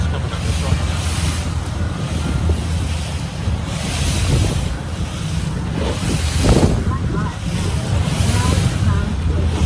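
Atlantic Ocean surf near the Port St. Lucie Inlet in Florida, with waves breaking and washing in a steady, close roar, heavy wind buffeting the microphone and a few louder surges as bigger swells hit.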